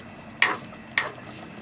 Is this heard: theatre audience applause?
no